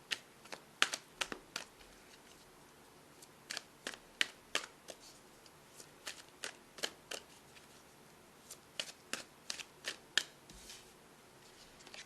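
Tarot cards shuffled and drawn by hand at a psychic reading, crisp irregular snaps and riffles close up in a quiet room.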